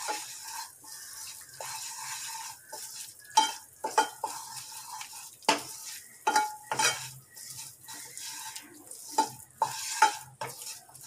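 Wheat flour roasts in a pan for halwa while being stirred, giving soft scraping strokes and intermittent spoon clinks against metal over a faint dry sizzle, quiet and close.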